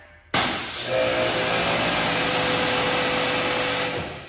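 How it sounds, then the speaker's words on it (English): A pressure washer starts up and sprays steadily on the paint protection film of a car, a loud continuous hissing rush that holds for several seconds and then cuts off, with no talking. "So I'm just going to turn the pressure washer on here."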